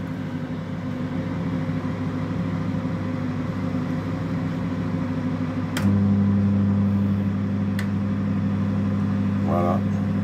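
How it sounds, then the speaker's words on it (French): A home microwave oven runs with a steady low electrical hum, then a click shifts it into a louder, stronger drone partway through, with a few faint beeps near the end. "On a notre micro-ondes qui est en train"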